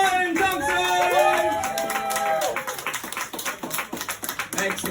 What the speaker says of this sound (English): Ladies and gents, big round of applause for Ryan Thompson!